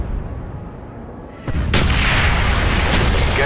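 Artillery strike in Call of Duty Black Ops multiplayer: a low rumbling bed that suddenly bursts into loud, dense booming blasts, sustained heavy explosions filling the rest of the moment.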